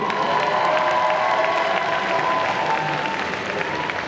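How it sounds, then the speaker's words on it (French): Audience at a Belgian World Cosplay Summit selection at Made in Asia 2023 applauds and cheers a cosplay group, a dense, steady wash of clapping with scattered shouts and whistles throughout. "On applaudit bien fort le groupe Fate Zero."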